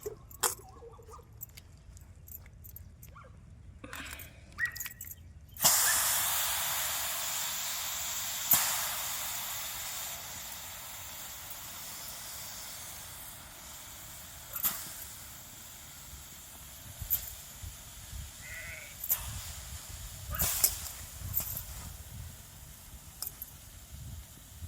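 Dried fish (sukat) roasting in a hot pan: a steady broadband hiss after a sudden start, with scattered sharp crackles and pops throughout, close and moderately loud, no talk.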